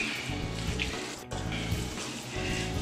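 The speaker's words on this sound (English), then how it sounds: "So let me wash my hands." Tap water runs steadily into a kitchen sink while hands are washed during meatloaf preparation, a continuous close splashing hiss with a brief dip midway, no talk.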